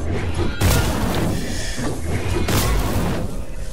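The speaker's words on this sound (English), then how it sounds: "I hear some shooting over here." Two sharp, booming gunshots ring out in a video game, spaced a couple of seconds apart, loud and close, each with a short echoing tail over a low rumbling background.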